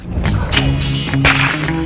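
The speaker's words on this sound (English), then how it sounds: "I think you guys might have to have a little whip cracking lesson" A whip cracks sharply several times on a cattle ranch, the loud snapping reports standing out against steady background noise and a faint tonal hum.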